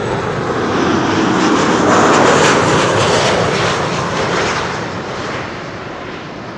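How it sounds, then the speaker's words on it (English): A KLM airliner arriving from Copenhagen roars past, a loud broad engine rush that swells to a peak and then slowly fades as the aircraft moves away. "This is KLM flight 1268 arriving from Copenhagen."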